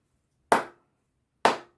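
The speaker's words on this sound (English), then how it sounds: "You can clap your hands if you want," Two single hand claps about a second apart, sharp and close, demonstrating clapping along to a Zulu song, with no talk or music under them.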